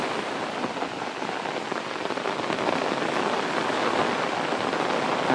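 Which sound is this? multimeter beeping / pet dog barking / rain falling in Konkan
rain falling in Konkan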